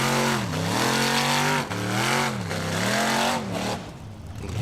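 Off-road racing buggy nicknamed the bomb climbing a steep dirt track at a Formula Offroad event in Egilsstadir, Iceland, its engine loud and close, rising and falling in pitch through repeated revs with brief throttle lifts.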